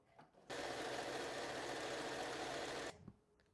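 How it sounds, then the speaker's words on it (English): A sewing machine stitches a fabric shoe bag in one steady, even whirring run of a few seconds, starting and stopping sharply, with quiet handling noises before and after. "do a little forward back stitch to secure your stitches like we were doing before"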